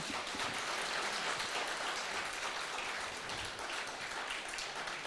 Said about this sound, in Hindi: मैं चाहूंगी आप तालियों के साथ उनका स्वागत करें।